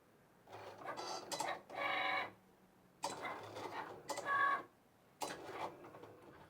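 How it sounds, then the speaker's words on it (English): A Cricut vinyl cutter works through a design at home, giving quiet mechanical whirring and buzzing in three separate passes with short pauses between them. "hit the go button on my vinyl cutter and it will send my design to cut for me"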